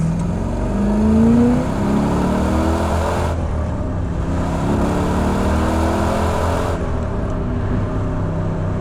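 A 1963 Chevrolet Corvette Split Window Coupe engine revs hard and accelerates to about 60, loud and close, its pitch climbing, dropping at gear changes, then climbing again.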